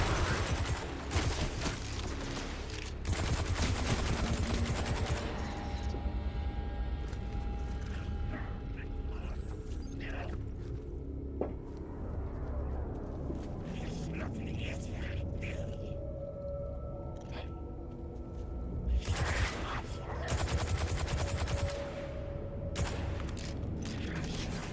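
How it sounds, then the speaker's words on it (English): Dense bursts of gunfire rattle loudly in a sci-fi shooter video game, heavy at the start and again near the end, with quieter eerie effects between and someone talking at times. "I'm shooting at a shadow. Imagine that."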